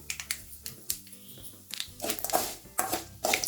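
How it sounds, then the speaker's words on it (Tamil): Mustard seeds and urad dal lentils crackle and pop in hot oil over a medium flame, with irregular sharp bursts that grow denser and louder toward the end. "நல்லா மீடியம் ஃப்ளேமில் வச்சு கடுகு உளுத்தம்பருப்பு எல்லாம் பொரிஞ்சு வர அளவுக்கு கிண்டி விடுங்க."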